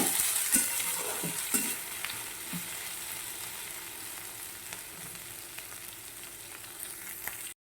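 Okra curry mixture is stirred in a frying pan, giving a soft, steady sizzle close by with a few scraping knocks of the spoon early on, then the sound cuts off abruptly.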